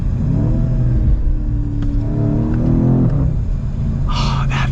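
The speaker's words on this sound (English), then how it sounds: "Just listen to that engine." A 2022 BMW M850i xDrive Gran Coupe's V8 revving in manual mode, its loud, close engine rising and falling in pitch over several seconds, then a short burst of higher whine near the end.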